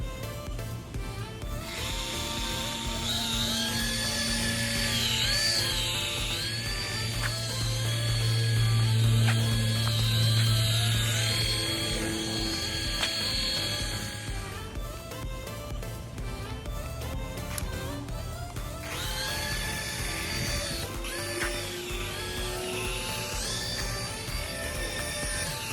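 A cheap five-dollar Five Below toy helicopter whirs and buzzes in flight, its small motor giving a steady mechanical drone that wavers in pitch, with a brief lull midway before the whirring resumes close by.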